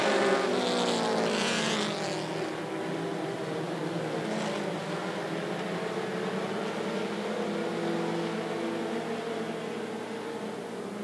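Mini stock race cars roar at 411 Motor Speedway as the green flag drops, a dense layered engine whine with rising and falling pitches from several cars at once, loud and continuous, with no talking.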